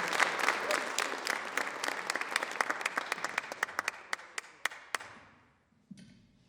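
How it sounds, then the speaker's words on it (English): Enthusiastic audience applause at a cabaret screening in an arts center, a dense burst of clapping that thins to scattered individual claps and fades out after about five seconds. "Give them applause."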